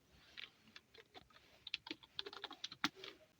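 Rapid irregular keystrokes on a computer keyboard, close and quiet, with bursts of clicks and a sharper press near the end.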